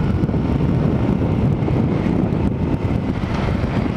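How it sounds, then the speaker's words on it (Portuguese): Strong wind buffets a microphone outdoors beside a Yamaha XJ6 motorcycle, a loud, steady roaring rumble that never lets up, with no voices heard. "Pô, a ventania da zorra, você viram?"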